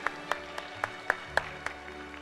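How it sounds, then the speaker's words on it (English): Scattered, sparse hand claps from a church audience after a drama group's performance, roughly eight separate claps spaced irregularly, faint and thin rather than full applause. "Let's give them a round of applause again."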